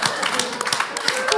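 An audience claps after lines of recited poetry: a brisk patter of hand claps mixed with people talking over it.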